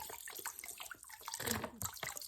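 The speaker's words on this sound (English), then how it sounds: "I got my water bottle, and I just add water like this, like it was just like any other plant." Water poured from a water bottle onto java moss, a steady, fairly soft splashing and trickle that swells briefly in the middle before easing off, heard close with no talking.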